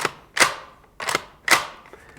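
Action of a Springfield Armory M1 Carbine replica CO2 BB rifle is cycled: four sharp, close metallic clacks in two quick pairs, crisp and alone.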